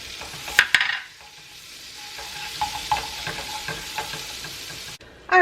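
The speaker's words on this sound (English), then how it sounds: "we're going to melt our tablespoon of butter" A tablespoon of butter melts in a pan for smoked pork chops, giving a soft steady sizzle throughout with a few clinks and stirring noises near the start.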